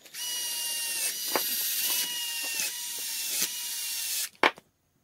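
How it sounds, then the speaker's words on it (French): A screwdriver or small power driver runs screws into the top cover of a Traxxas TRX-4 rear axle, a close whirring hum in several bursts with ratcheting clicks, ending in a sharp knock. "On va visser ça."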